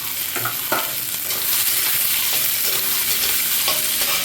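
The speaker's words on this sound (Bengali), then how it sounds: "এবার তেলের মধ্যে পেঁয়াজ দিয়ে দিচ্ছি" Onions dropped into hot oil for cooking cabbage, a loud immediate sizzle swelling into steady frying hiss with a few stirring scrapes, close up, no talking.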